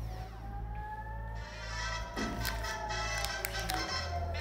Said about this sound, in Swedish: Här är när vi sitter och man hör sirenerna